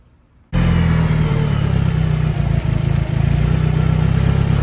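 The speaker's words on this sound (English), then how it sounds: "So let's fire it up and see what it sounds like." A 1990 Mitsubishi Eclipse GSX engine cranks and catches after a brief quiet moment, then runs loud and steady close by, with a deep, rough idle and slight wavering in level.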